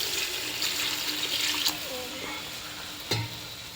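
Turmeric is stirred into a lemon and date pickle mixture, a continuous wet, hissy stirring sound with a soft scrape or two, and a voice faintly present in the background.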